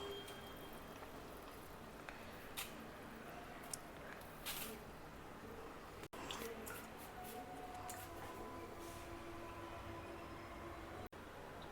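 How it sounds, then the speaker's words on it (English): Water drains from freshly washed millets through a sieve, making a steady, soft, quiet hiss with scattered faint drips and small clicks throughout. "You can use a sieve like this to drain out all the water"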